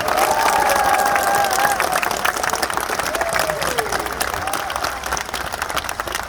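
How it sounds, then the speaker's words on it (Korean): A large crowd applauds and cheers at a political rally in Jeonju, steady dense clapping filling the space, with a few raised voices and a short musical or whistle tone riding over the noise. "박수 부탁드립니다."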